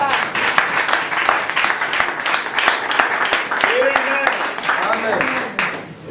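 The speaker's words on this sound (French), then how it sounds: "Let's put our hands together." Church congregation applauding together, steady broadband clapping filling the space with voices and cheering mixed in, moderately loud and continuous throughout.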